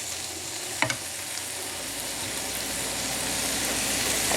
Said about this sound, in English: That's the coconut milk, and the entire can is going inside.